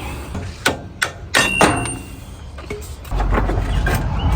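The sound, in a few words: hammering out screws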